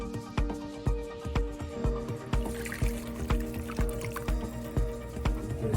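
Zucchini noodles cook in a pot of boiling water, with close, rhythmic plops and bubbling pops at regular intervals over a faint steady tone in the background.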